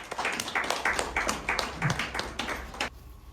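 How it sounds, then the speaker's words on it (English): Audience clapping at an event welcoming a guest speaker, a moderately loud spatter of hand claps that stops abruptly before three seconds, leaving near silence. "Let's just give him a round of applause."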